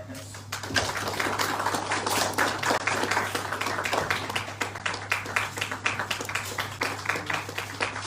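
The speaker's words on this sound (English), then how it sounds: "We will clap our hands." An audience claps hands together at a Congress party manifesto launch event in Shillong, Meghalaya, a steady, dense patter of many hands that carries on throughout, with a constant low electrical hum underneath.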